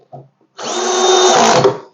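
A short knock, then a power drill tightening parts while assembling a rack whirs loudly for about a second and a half, its motor pitch steady before winding down.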